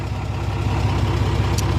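A Bedford truck's diesel engine idles steadily close by, a low, even rumble with a regular pulsing beat that holds throughout.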